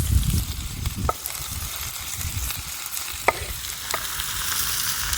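Vegetables fry in oil in a pan over a lakeside campfire, a continuous crackling sizzle with occasional soft utensil clicks as they are carefully stirred, close and steady throughout.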